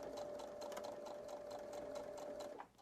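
A sewing machine runs steadily, top stitching along the short ends of pressed fabric with a 1/8 inch seam allowance; a close, continuous whirring drone with rapid needle ticks that stops abruptly near the end.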